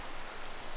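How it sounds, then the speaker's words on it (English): Steady, dense rain falls in a video game, a soft, even hiss with no other sounds. "Oh, now it's raining."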